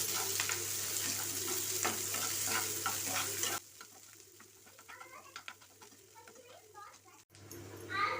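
Mustard seeds, garlic, green chili, curry leaves and onion sizzle in hot oil for goat brain fry, a loud crackling hiss that drops to gentler frying with stirring clatter, while birds chirp nearby.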